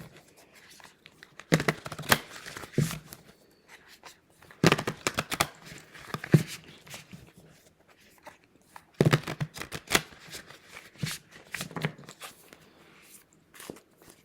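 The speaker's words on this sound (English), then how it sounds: "Let me shuffle the cards here." Tarot cards are shuffled in several quick riffling bursts separated by brief pauses, close up and crisp.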